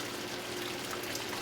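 Pasta is lifted straight out of a pot of boiling water and drained, a steady wash of pouring, splashing water heard up close with no voices over it.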